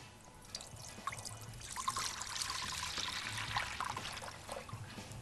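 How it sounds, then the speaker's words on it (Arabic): A liter of full-cream milk poured into a pot, a steady close trickling and splashing stream that swells slightly midway and continues to the end, with no talk. "وبنحط هنا لتر من الحليب"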